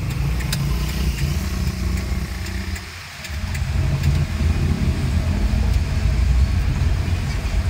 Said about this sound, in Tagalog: Oh, grabe ang traffic, oh.